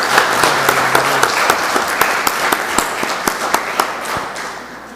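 An audience at a public hearing of the Joinville municipal truth commission bursts into steady, loud applause, dense clapping sustained throughout with a few sharper claps standing out.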